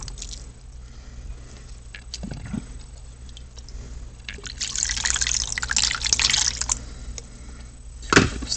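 Water being added to a pan of gold-panning paydirt full of black sand, giving continuous trickling, squishing and sloshing that swells in the middle of the clip, with a short splash near the end and no talking.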